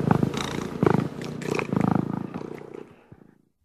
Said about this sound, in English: I stroked the black cat and he purred.